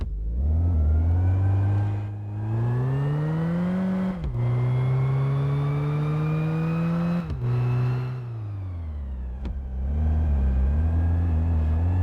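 A racecar engine revs and accelerates through rising pitch sweeps, with abrupt drops at each gear change, loud and close on a short drive, with no speech.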